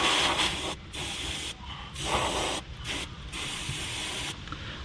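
Contact cleaner sprayed onto the radiator fan wiring connectors and ballast resistor of a Fiat Panda 4x4, heard as close, loud hissing bursts separated by short pauses, with faint mechanical rubbing between them.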